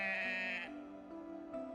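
Sheep bleating in the video game Punishing: Gray Raven, a clear, close, wavering bleat followed by a softer, lower second call, alone with no talk.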